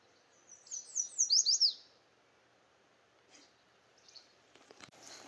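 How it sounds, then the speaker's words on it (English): Birdsong chirps in a quick burst of high, bright notes at Old Mill State Park, Minnesota, then fades into quiet outdoor ambience with a few faint, distant calls. "You can just hear all the birds."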